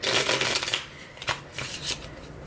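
Cards riffle and rustle in quick bursts near at hand, a dense papery flutter that pauses briefly midway before another round of shuffling.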